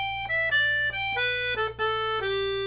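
One measure of a Scottish strathspey played on a 72 bass accordion, a few reedy melody notes stepping downward in snappy uneven rhythm over a sustained low bass, close and clear.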